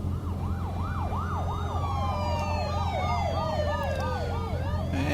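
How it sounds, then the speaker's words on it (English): Several police car sirens in The Walking Dead video game wail together, overlapping rising-and-falling tones over a steady low rumble of traffic, loud and sustained without talk. "now we have quite a few police cars rushing towards the scene"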